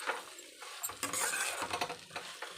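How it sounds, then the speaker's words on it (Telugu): Okra curry being stirred in a pan, a short burst of scraping and clinking from the spoon over a soft sizzle, quiet and close. "అన్ని బెండకాయలు అయితే వేసుకున్నాం. ఇప్పుడైతే కలిపేసుకుందాం."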